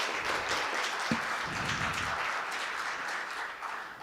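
An audience applauds the in-house band at an annual community big event, steady dense clapping filling the room for several seconds and tapering slightly at the end.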